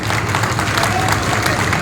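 Audience applause at a public speech in Vijayawada, a steady dense wash of clapping filling the whole moment at fairly loud level, with faint crowd noise mixed in.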